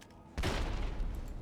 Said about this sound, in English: Grenade was the key there